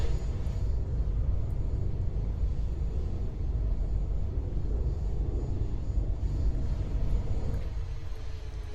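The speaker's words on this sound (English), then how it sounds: "We're gonna land at the Qatar airport with UPS 767." UPS 767 airliner engines roar in a steady, dense rumble during a landing at Qatar airport in the Aeronautica video game, loud and continuous with no talk over it.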